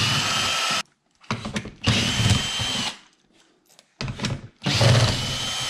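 A power drill whirs in three bursts of roughly a second each, loosening bolts on the front bumper of a Chevrolet Corvette C7, with short quiet gaps between the runs.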